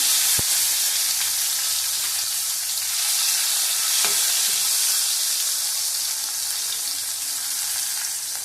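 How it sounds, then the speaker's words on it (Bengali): Katla fish roe frying in a pan with black cumin and tomato gives a loud, steady sizzle with constant hiss and occasional small pops and stirring clicks, with no talking. "একটু ভালো করে ভেজে নেবো"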